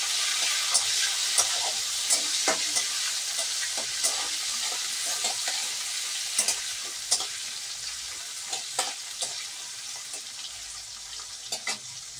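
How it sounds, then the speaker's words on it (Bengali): Chopped onions sizzling in hot oil in a pan, a steady close hiss broken by frequent clicks and scrapes from stirring, with no voices. "তো আমি এবার পেঁয়াজটাকে একটু ভালো করে ভাজবো।"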